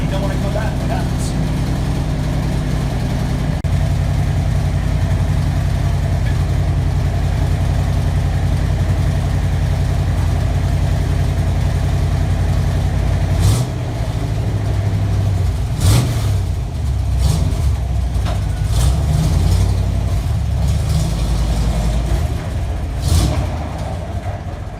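A Jeep CJ5 engine fitted with a Pertronix ignitor runs in a loud, steady idle, then revs in rising bursts with clicks and clunks, and a person talks over it.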